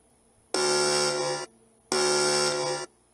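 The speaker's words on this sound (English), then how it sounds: "As you can hear, it sounds an alarm and actually flashes the light." A Kuna security light camera's intercom alarm buzzes in two long, loud bursts of about a second each, separated by a short pause, with nothing else around it.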